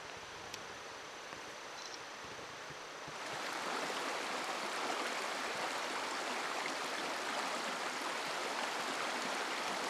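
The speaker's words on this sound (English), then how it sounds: "it's a river crossing" River water flowing at a Little Missouri river crossing on the Eagle Rock Loop trail, a steady broadband rush that swells louder after the first few seconds and continues unbroken, with no one talking.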